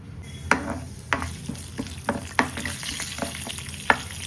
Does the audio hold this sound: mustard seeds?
yes